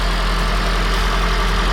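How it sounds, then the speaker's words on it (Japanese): A Toyota Prius Alpha's petrol engine has switched on and holds a loud, steady low idling hum with a constant drone throughout and no voices. "音、エンジンに切り替わった音、これは正常なんでしょうかね"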